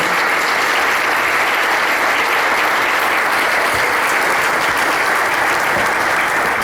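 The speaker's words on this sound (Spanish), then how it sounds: "Les pido un aplauso para nuestro ponente." An audience at a human rights conference applauds a speaker, a dense, steady wash of clapping that holds at full strength for several seconds with no voices over it.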